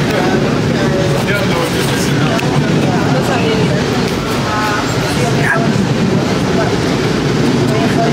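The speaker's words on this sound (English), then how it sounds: "We're on the subway." A subway train rumbles along with a steady low roar and rattling, while people talk and murmur nearby over the continuous noise.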